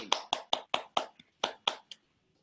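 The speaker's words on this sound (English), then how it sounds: "big round of applause for everyone that showed up tonight" A handful of sharp, separate hand claps at a small live evening show, about nine evenly spaced beats over two seconds, close and fairly quiet, then silence.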